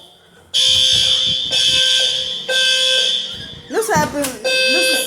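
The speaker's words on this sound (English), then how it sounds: "A perp is tampering with the freaking alarm." Hotel fire alarm ringing, a loud, piercing electronic tone that sounds in repeated long blasts. Near the end a person shouts over it.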